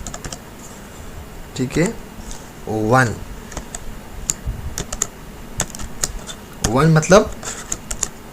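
Quick clicks of a computer keyboard come in scattered bursts while HTML code for a table border is typed, with someone talking intermittently over the keystrokes.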